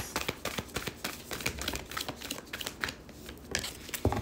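Oracle cards being shuffled by hand in a quiet room, a steady run of close, crisp riffling and flicking pulses with a sharper slap near the end.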